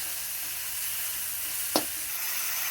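A spice paste of chili, ginger, garlic, cumin and coriander fries in a pan with a steady, soft hissing sizzle, broken once by a short sharp scrape; nearby and without speech.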